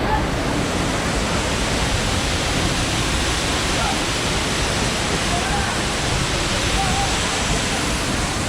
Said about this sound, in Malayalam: അടി ഉയരത്തിലുള്ള വെള്ളച്ചാട്ടമാണിത്.